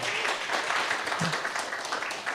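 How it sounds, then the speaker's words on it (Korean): A church congregation gives warm applause for its young people, a soft, even wash of many hands clapping at a moderate distance throughout. "우리 수고해 주신 우리 청년들에게 큰 박수 한번 부탁드리겠습니다."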